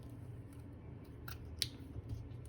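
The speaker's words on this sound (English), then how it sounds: "then you're going to cut your yarn, leaving a good tail" A few brief scissor snips cutting crochet yarn for a basket project, quiet and close against a low steady background hum.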